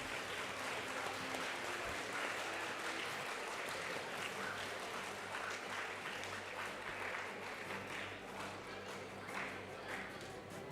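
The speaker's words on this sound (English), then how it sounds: "Can we have a huge round of applause for the runner-up team?" A school audience at a colloquium event applauds the runner-up team, steady crowded clapping throughout, fairly distant and even in level with no clear peak or fade.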